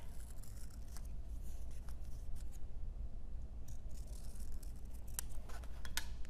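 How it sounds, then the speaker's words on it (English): Scissors cutting the iris part out of a paper pattern piece for a Halloween eyeball barrette, a close, steady run of soft snips and rustles with a few sharper cuts and no talking. "Then I'm going to cut out the iris part of my pattern piece."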